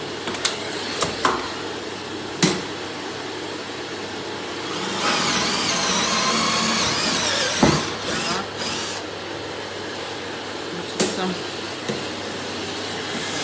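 A drill bores a hole through a kitchen countertop over masking tape, ahead of a jigsaw cutout for a hob; a steady, grinding whine lasts a few seconds, framed by clicks, handling knocks and voices nearby.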